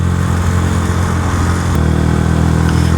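A motorcycle engine drones loud and steady on a rough rural trail to a beach campsite in Agno, Pangasinan, its pitch dropping slightly partway through without any voices.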